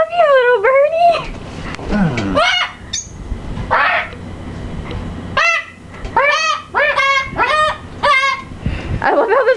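A bird honks loudly and close by in a rapid series of rising, nasal calls, with brief pauses and a few spoken words mixed in.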